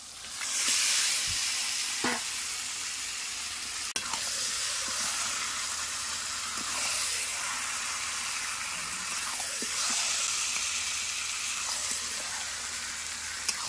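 Marinated chicken going into a hot pan for a chicken curry masala sizzles and hisses steadily, with a few sharp clinks and scrapes of stirring breaking through the constant frying noise.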